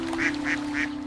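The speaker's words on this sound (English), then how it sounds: "The ducks are not scared of me at all." Ducks on a Central Park pond, heard from a rowboat, give three evenly spaced nasal quacks close by over a steady low hum.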